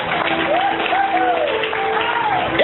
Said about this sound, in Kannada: ಅರ್ಥ ಆದವರು ಚಪ್ಪಾಳೆ ತಟ್ತೀರಿ